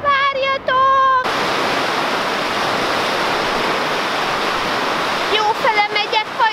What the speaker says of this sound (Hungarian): Követem a folyót. A folyó mindig megmutatja a jó irányt.